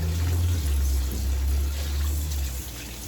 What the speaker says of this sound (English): I'm just gonna rinse these off.